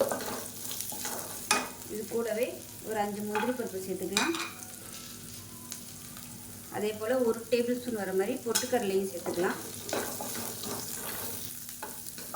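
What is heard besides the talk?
onions being sautéed and stirred in a pan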